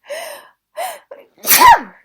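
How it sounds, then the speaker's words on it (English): Three sneezes in quick succession: two short, breathy ones followed by a louder, explosive final sneeze, close and with no talking. "I am now going to sneeze."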